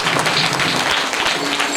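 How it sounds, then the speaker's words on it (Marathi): An audience claps briefly in a dense, steady burst of applause, honouring organisers during a kirtan program at Mahadev Dara, Beedsangvi. "त्यांच्या सत्कारात करतात टाळ्या"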